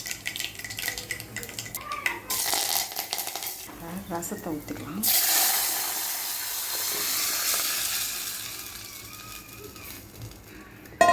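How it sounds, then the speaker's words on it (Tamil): Mustard and spices tempering in hot oil for rasam, a bright hissing sizzle that flares up suddenly midway and stays loud, with kitchen clinks of a metal pan and utensils around it. "ரசத்தை தாளித்து விட்டுக்கலாம்"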